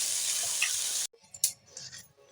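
Cauliflower frying in a pan gives a steady, loud sizzle for about a second, then cuts off to quiet scattered clinks and scraping as the pieces are stirred.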